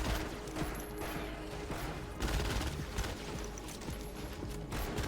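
Turret firing in Fortnite Save the World: a rapid rattle of repeated gunfire bursts runs steadily through the whole stretch, dense and fairly loud amid other game noise, with no talk.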